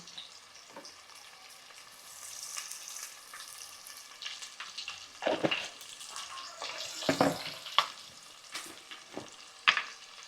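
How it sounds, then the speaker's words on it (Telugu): Onions and green chillies frying in oil in a home kitchen, a steady sizzle broken by irregular clattering stirs and scrapes that grow louder toward the end, with no voices. "పచ్చిమిర్చి అయితే మంచిగా ఆయిల్లో వేగిపోయింది ఇందులోకి ఆనియన్స్ యాడ్ చేసేసుకుందాం"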